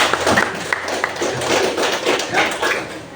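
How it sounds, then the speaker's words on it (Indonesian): A classroom audience claps together after a religious talk on brotherhood in Islam, a dense burst of many hands that stays close and fairly loud for about three seconds with uneven peaks. "tepuk tangan dulu untuk saya"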